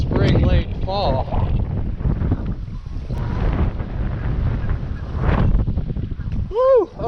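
Strong wind gusts outdoors in northern Colorado in early spring, buffeting the microphone with loud rumbling roar throughout, while someone talks and whoops over it, with short bird-like chirps near the end.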